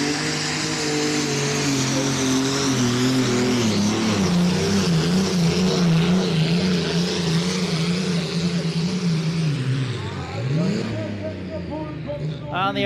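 Engine of a limited Superstock pulling tractor roars loud and steady during a pull at a European Championship tractor-pulling event, pitch wavering then dropping near the end, with an announcer talking over it.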